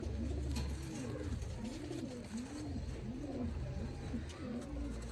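A yellow-eyed pigeon cooing softly, a steady series of rhythmic rolling coos repeated about once a second against a constant background hum.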